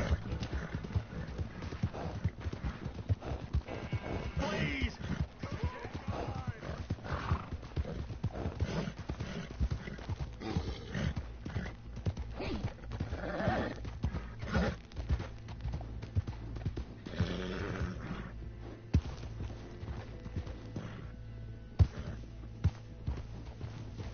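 Rapid hoofbeats of a galloping horse in the video game Red Dead Redemption 2 drum on continuously, with occasional snorts and whinnies mixed in, moderately loud and close.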